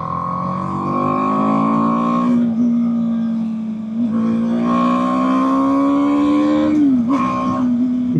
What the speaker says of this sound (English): you can rev it out all day and you're not even going fast